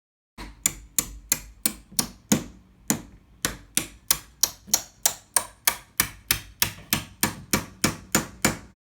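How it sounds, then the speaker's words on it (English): A hammer taps a metal door hinge pin back into its hinge in a steady, even rhythm, about twenty sharp close-up strikes with bright ringing clicks and brief decays. "then you can place the pin back in the hinge and hammer it in."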